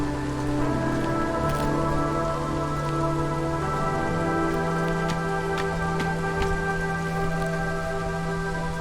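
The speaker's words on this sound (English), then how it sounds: "And now we are back to what's called the drizzle, which is the kindest area." Steady drizzle patters across surfaces in the video game Against the Storm during its gentle drizzle season, a constant soft hiss with scattered drops over sustained tonal music.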